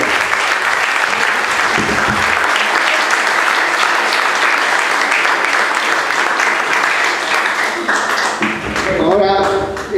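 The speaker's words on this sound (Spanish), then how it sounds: "Así que también un buen aplauso, por favor." An audience at a lecture applauds loudly and continuously, thick close clapping that tapers near the end as a voice begins speaking.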